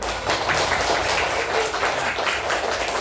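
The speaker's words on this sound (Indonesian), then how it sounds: "Tepuk tangan buat kalian semua." Students in an Indonesian classroom clap together, making a continuous dense patter of many hands that sounds close and fairly loud.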